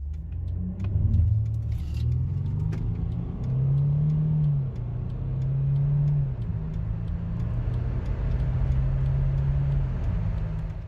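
Mercedes W212 E-Class diesel car, likely the 3.0-litre V6 E350 CDI, accelerating hard from standstill to 100 km/h; a steady low engine drone rises in pitch through several gear changes, loud and close with no voices.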